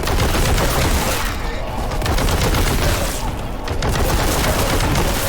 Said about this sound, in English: Gun sound is a little hollow